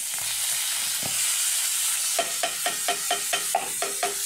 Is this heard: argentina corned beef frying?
yes